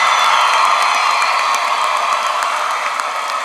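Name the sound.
applause and cheering for graduates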